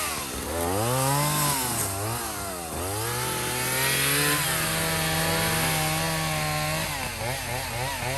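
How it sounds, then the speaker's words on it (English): Husqvarna chainsaw cutting a tree while clearing around a farm property, loud and close, with the engine revving up and down through repeated pitch sweeps and bogging under load, alone without speech. "And this is why you don't run away from the tree with the chainsaw."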